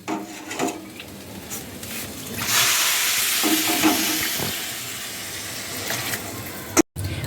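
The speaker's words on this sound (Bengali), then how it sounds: "এখানে গরম জল দেব আমি" Hot water pours into a pot of sautéed rice and potatoes for an egg and potato pulao, a rushing, splashing gush that swells after a few light knocks and then fades into a gentle simmering hiss.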